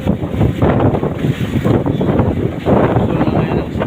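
Strong wind at sea buffets a boat, hitting the microphone in loud, gusty roaring surges. Rushing water noise sits underneath, up close and constant.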